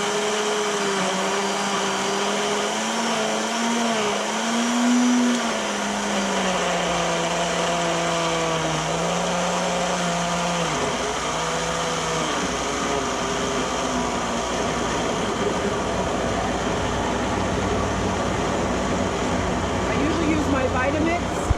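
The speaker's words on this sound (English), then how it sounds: "we're going to blend this up to liquidity, so it's very liquidy" A Vitamix blender runs continuously, whirring fruit down into liquid with a loud, steady roar whose pitch shifts as the mix thins.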